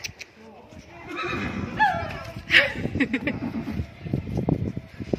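A horse neighs clearly in the middle, a rising-and-falling whinny standing out over people talking and general outdoor noise, with faint hoof-like knocks and movement sounds following.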